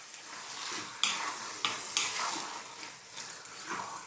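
Vegetable chili sizzles in a pot with the lid off as a spoon stirs it, giving steady frying hiss broken by regular scraping strokes, all close and without talking.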